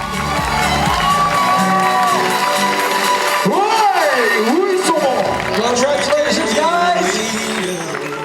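Spectators cheer and whoop loudly as the women's winner of the 101 km CCC trail race finishes in the Alps at night, with a dense, continuous crowd roar, shouts and voices throughout.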